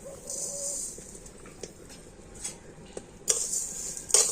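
Grated coconut and sugar stirred in a wok for a sweet palm-fruit filling, soft scraping strokes with a faint hiss, scattered light clinks of a spoon, and two louder metallic scrapes near the end, no voices.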